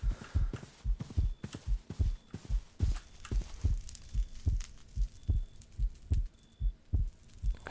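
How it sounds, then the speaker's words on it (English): A heartbeat thumps steadily in a Hardcore TFC Minecraft modpack game, with a close, muffled, evenly paced double pulse and no talking over it. "I hear my heart beating."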